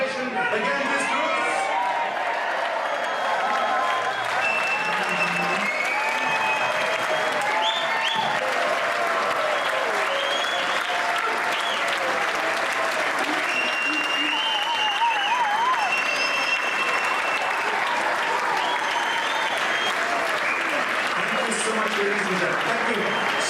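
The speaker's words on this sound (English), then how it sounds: "Do you think they deserve a standing ovation?" A cruise ship audience gives a performing group a long, steady round of applause. Dense clapping fills the room throughout, with crowd noise and a few voices mixed in.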